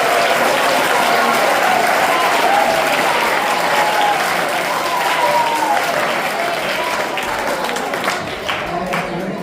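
A school crowd claps continuously at a Hindu New Year celebration, loud sustained applause filling the hall, with faint voices mixed in underneath.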